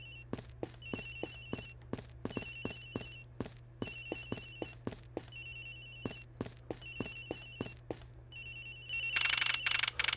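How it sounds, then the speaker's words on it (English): Phone ringing in Ace Attorney Investigations: repeated electronic ring bursts in a regular pulsing pattern over a low steady hum, lasting the whole stretch, with a louder noisy swell at the end. "It's ringing from somewhere"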